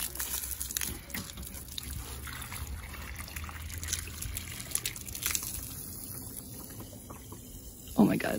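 Tap water pours into a gray box, a steady trickling, splashing flow running throughout at moderate level, with a louder gush near the end.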